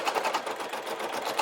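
Brother SE1900 embroidery machine stitching an Easter basket design, a close, steady, fast mechanical chatter with an even rhythmic pulse throughout.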